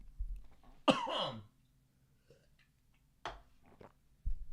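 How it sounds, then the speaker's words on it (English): Two short, harsh coughs or throat clears, close and fairly loud, separated by a quiet pause, with a faint click at the end. "I have to cough."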